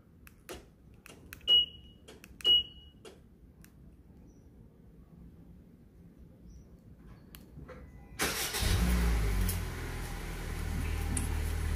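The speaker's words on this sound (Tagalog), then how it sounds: "Pag pina-start natin remotely, bubukas syempre yung engine tsaka yung aircon." A Honda Civic started by remote: a couple of short chirps and clicks, then quiet, then the engine catches and settles into a steady low idle with the air conditioning running.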